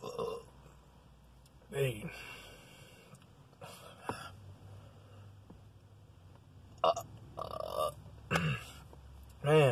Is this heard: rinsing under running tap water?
no